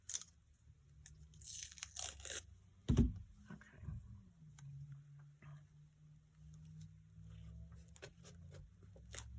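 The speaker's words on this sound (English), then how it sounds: "I think I'm gonna put another piece of tape right" Adhesive tape pulled and torn off for a paper folio craft project: a burst of crackly ripping, a sharp snap, then soft handling noises over a faint low hum.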